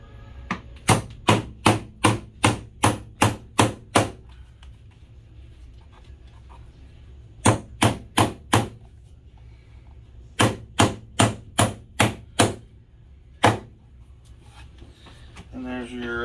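A hammer drives nail heads flat against a wooden wall stud while an electrical box is fitted. Sharp, loud, close blows come in three quick bursts separated by pauses, and a voice is briefly heard at the end.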